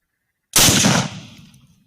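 A single loud rifle shot cracks out during a night hunt for a big feral boar in the Australian bush, its sharp blast followed by a rolling echo that fades over about a second.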